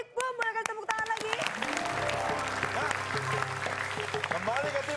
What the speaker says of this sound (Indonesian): Boleh kasih tepuk tangan lagi?